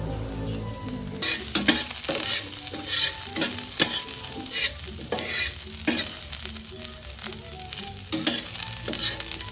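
Garlic frying in reused cooking oil in a pan: a continuous close sizzle broken by repeated bursts of stirring and scraping, roughly every second or so, with no talk.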